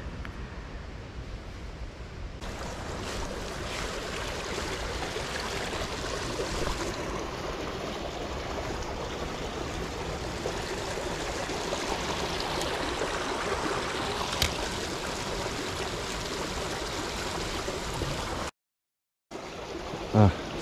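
Small river stream flowing steadily on an autumn outing, a continuous near broadband wash of moving water that runs through the whole stretch before briefly cutting out near the end.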